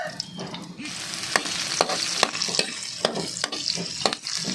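Butter (Buttercream brand) melting in a pan before garlic and onion go in, giving a steady close sizzle broken by sharp clicks and scrapes of a utensil stirring against the pan.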